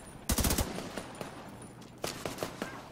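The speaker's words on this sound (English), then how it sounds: "why are you running in front of me firing?" Gunfire in The Division 2 video game: a rapid burst of automatic shots near the start, then a second string of spaced, sharp shots about two seconds later, loud and close.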